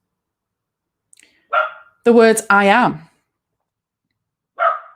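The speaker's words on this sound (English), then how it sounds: "Sorry, that's my doggy." A dog barks a few short times in the room, with someone talking over and between the barks.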